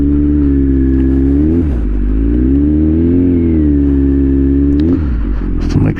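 A Kawasaki Z900 motorcycle with an ECU flash tune idles and rolls at slow speed during tight maneuvers. The engine hum is loud and close, with small throttle rises and dips and a clutchy drop near the end, and no voices.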